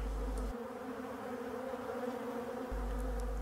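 Honey bees buzz steadily as they clean honey super frames near a cluster of about ten hives, a continuous close-up drone with no talk.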